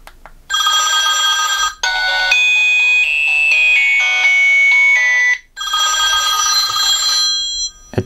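An AGM M2 rugged phone blasts a ringtone melody from its speaker, very loud and piercing, in two bursts separated by a short pause with a fuller middle passage, and no one talks over it.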